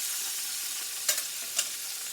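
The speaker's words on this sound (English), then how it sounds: "let me flip this chicken over. It's frying up really nice." Steady, close sizzling of chicken frying in a pan, a continuous hiss broken by two brief louder pops near the end.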